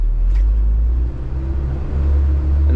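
Mitsubishi Canter JDM truck pulling away in first gear, a loud close deep engine rumble that sags for a moment and then swells again as it accelerates.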